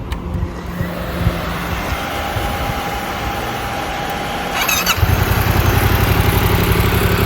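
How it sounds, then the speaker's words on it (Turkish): A motorcycle on a riding-test course, started with the clutch pulled in, idles with a steady, even mechanical rumble, then grows rougher and louder after a brief high whine near the end. "Motoru bir çalıştıralım debriyaja basarak."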